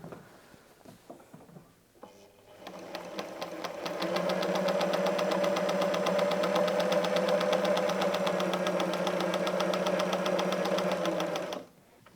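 A sewing machine stitches a quilted paper-pieced snowflake design, starting with a few soft clicks before settling into a loud, fast, steady mechanical whir that runs for about eight seconds and then stops abruptly.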